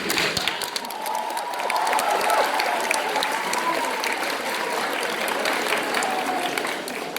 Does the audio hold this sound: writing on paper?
no